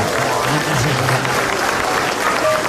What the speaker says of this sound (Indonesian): Boleh tepuk tangan sekali lagi buat saya.